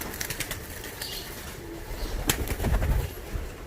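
Racing pigeons in a loft give low, soft cooing under a rustling background, with some wing flapping and shuffling near the end.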